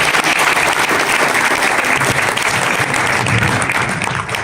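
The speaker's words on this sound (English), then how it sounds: "Give a round of applause," A conference audience gives a dense, sustained round of applause after a speech, loud and even throughout with no talking over it, tapering slightly at the very end.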